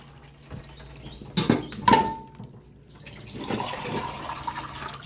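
Water from cooked noodles draining through a perforated colander, with a couple of pot knocks and a thin pour, then a soft, steady rush of falling water.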